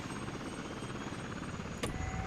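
A helicopter in the city-building game Workers & Resources: Soviet Republic gives a steady, continuous rotor drone with a brief bright burst near the end, alone with no talk.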